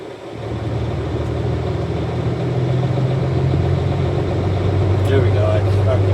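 A truck's air compressor kicks on over the idling engine, its low hum building gradually into a steady, loud drone close by.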